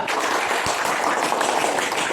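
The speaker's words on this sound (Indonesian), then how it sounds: "tepuk tangan untuk kelompok dua" Classroom applause for group two after their presentation in an Indonesian school lesson; a continuous wash of many hands clapping, fairly loud and unbroken throughout.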